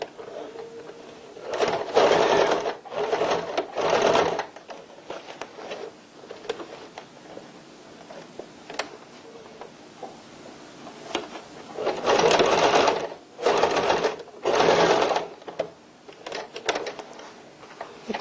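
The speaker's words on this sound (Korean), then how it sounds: "라벨은 시접 부분을 충분히 남긴 다음에 박음질 하셔야 됩니다" A sewing machine stitches a label onto a tote bag, running in several short bursts of rapid mechanical whirring separated by pauses and quiet handling noises.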